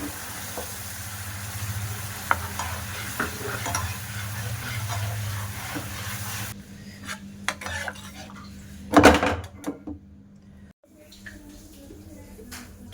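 Caramel in a pan with water being stirred, a bubbling sizzle with metal utensil clinks against the pan, then a quieter stretch punctuated by sharper clatters and one loud burst of scraping.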